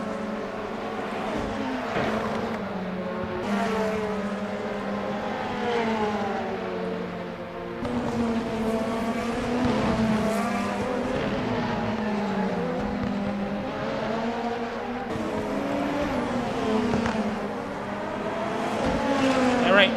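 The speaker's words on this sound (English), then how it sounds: "So Patterson's out of this race, 14 cars remain" Race cars in a video game race at the Autopolis circuit roar continuously with rising and falling engine pitch through gear changes over twenty seconds, loud and steady.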